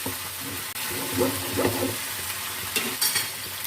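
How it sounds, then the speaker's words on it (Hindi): Steady crackling sizzle of food frying in a pan while making chicken biryani, with a few brief stirring scrapes partway through; close and moderately loud, no talking. "फ्राई कर लेते हैं।"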